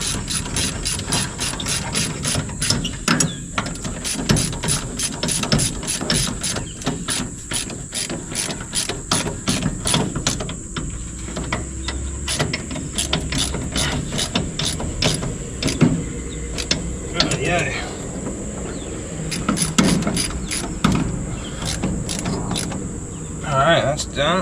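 A ratchet wrench tightens bolts on an International truck in a workshop, giving steady rapid clicking runs in repeated strokes with brief pauses, close and clear over faint background noise.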